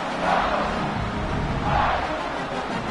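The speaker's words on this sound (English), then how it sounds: "They're set to kick it off, and this crowd now ready to get behind them." Stadium crowd in a college football video game, Oregon versus Washington, keeping up a steady, dense roar with two swelling surges of cheering at kickoff time after a tied two-point conversion in the fourth quarter.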